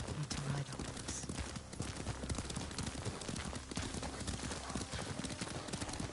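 Steady clip-clop of horse hooves at a riding pace in the video game Ghost of Tsushima, loud and continuous, with a brief whinny near the start.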